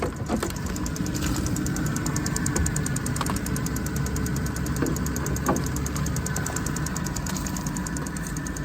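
A car engine idles evenly with a steady low hum and a faint rapid ticking running throughout, no voices present.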